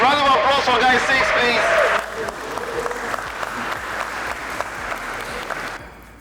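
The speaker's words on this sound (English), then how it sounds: "round of applause for guy 6" Audience applause at a speed dating event with about fifty singles, loud for the first two seconds and then fading into lighter scattered clapping with some crowd chatter, ending abruptly.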